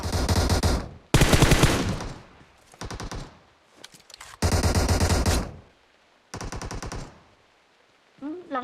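Bursts of automatic gunfire from PUBG Mobile come in several loud volleys separated by short pauses, some sustained and some clipped, with a brief different sound at the very end.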